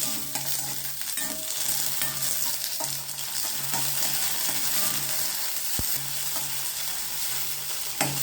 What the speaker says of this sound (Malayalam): ഇഞ്ചി ഒന്ന് ചൂടാക്കി